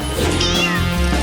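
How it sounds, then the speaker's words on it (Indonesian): A single loud cat meow, close and drawn out, rising and falling in pitch over about a second. "Ada kucing di sini."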